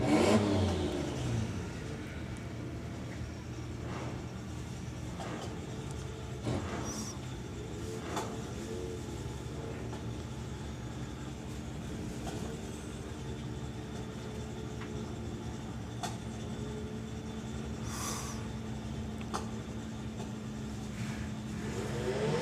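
Drag racing cars at a national finals meet, a Corruption Racing VW Golf and a VW Lupo, launching from the line; engines drone and rev at a distance, with a steady mechanical rumble and periodic rising surges over about twenty seconds.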